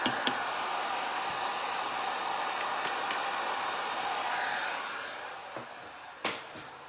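A hair dryer blows steadily and close while drying glass and resin art, a constant whooshing roar that fades down near the end, followed by a few light knocks and clatters.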